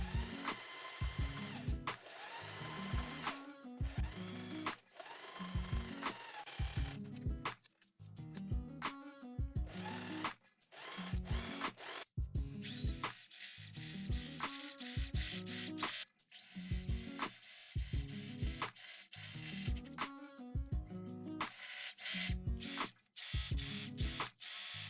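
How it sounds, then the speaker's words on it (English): A sewing machine stitches along a marked line on a make-up bag, its motor running in repeated bursts with short pauses for the front and back stitching at the start and finish, close and steady with no talking. "now it's time to sew along the mark that we have made"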